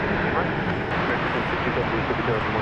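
An airliner approaches DFW Airport, its engines a steady, broad, distant roar that holds evenly throughout, with no distinct peaks.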